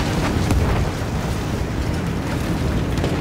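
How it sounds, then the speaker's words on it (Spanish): Field cannon shelling in the World War I shooter Battlefield 1, during a muddy tank advance: a loud, continuous rumbling roar of blasts with deep booming low end and no distinct pauses. "¡Esos cañones de campaña van a acabar con nosotros!"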